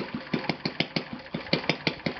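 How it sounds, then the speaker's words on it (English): An Enya VT 240 model engine idles on its left cylinder with a quick, even pulsing beat, close and fairly faint, running alone with no voices. "I was able to set the idle on the left cylinder"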